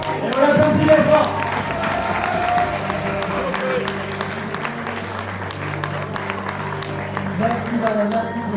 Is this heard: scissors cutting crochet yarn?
no